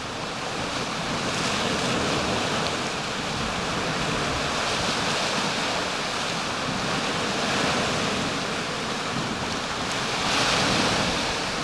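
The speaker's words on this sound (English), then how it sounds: "just sitting and watching the waves hit the rocks" Small sea waves wash against coastal rocks at Saltwick Bay on the North Yorkshire coast, a steady broadband surf hiss with gentle swells and light wind noise, continuous and fairly close.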